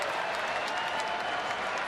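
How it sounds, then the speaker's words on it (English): A Fenway Park baseball crowd lets out a wash of sarcastic cheering and scattered clapping, a dense, steady roar lasting a couple of seconds. "These sarcastic cheers from the crowd"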